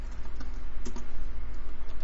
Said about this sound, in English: I'm pressing the wrong key on my keyboard.